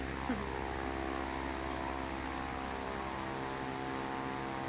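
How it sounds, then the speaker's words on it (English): A steady, buzzing airplane engine drone in the Prepar3D flight simulator, a low-altitude flight, with a constant hum, even and unbroken throughout, like a propeller craft in level flight. "your plane sounds like a huge bumblebee"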